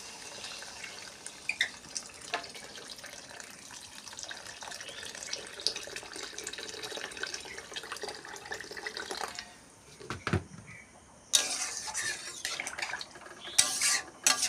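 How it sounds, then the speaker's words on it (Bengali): Water poured into a pan of Bengali lentil-dumpling curry, a steady watery splashing and stirring with faint utensil clinks, broken by a brief pause before more pouring and scraping near the end. "কষানো হয়ে গেছে, এবার জল দেবো।"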